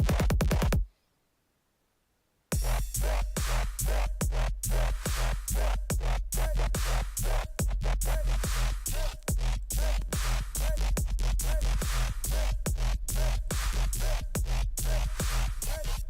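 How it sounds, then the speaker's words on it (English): A punchy synth bass made in Serum pumps in rapid, rhythmic pulses, stopping briefly after the opening before driving on in a steady, loud pattern. "So this is the bass that I finished making."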